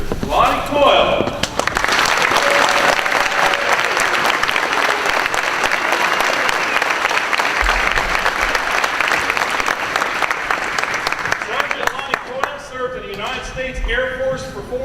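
An assembly audience at a school Veterans Day event gives a round of applause for an Air Force veteran; loud, dense, sustained clapping that fades near the end as a voice begins speaking.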